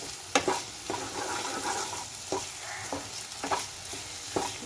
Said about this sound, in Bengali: এইভাবে এটা মিডিয়াম ফ্লেমে রেখে এইভাবে এটাকে নেড়ে নেড়ে দিতে হবে